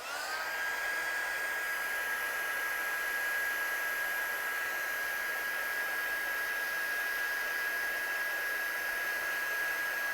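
A heat gun dries paint on a craft vase, blowing with a steady, continuous airy roar and a thin high whine. The sound stays constant and alone for about ten seconds.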